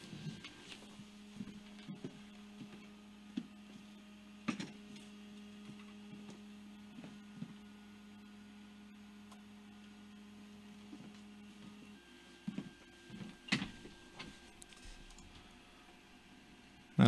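Steady mechanical hum with faint rhythmic stepper-motor whirring and small ticks, a machine running continuously nearby with a shift in tone partway through.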